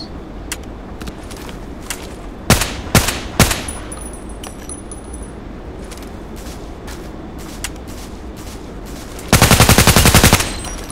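MK14 EBR rifle fire in the shooter game Contract Wars: a few sharp single shots early on, then a loud, fast burst near the end, over a steady game background with no talk.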